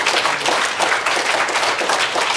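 Steady audience applause at a Korean health seminar fills the whole stretch: a dense, even wash of many hands clapping together, fairly loud and close, with no voices over it.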